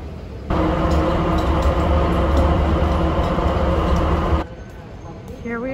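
An airport trolley or subway-style train carries passengers to the baggage area of a large, nearly empty airport, giving a steady, loud rumble and drone for about four seconds before it drops away to quieter ambience.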